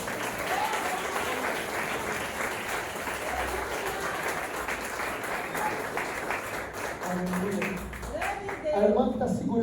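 A church congregation claps together in sustained applause during a healing and deliverance service, the dense clapping steady and loud throughout, with a preacher's voice and crowd voices mixed in near the end.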